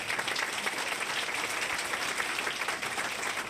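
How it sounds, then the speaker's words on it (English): Steady applause from a large crowd at a chamber of commerce awards ceremony, dense clapping sustained at an even level throughout with no voices standing out. "Big round of applause for these folks."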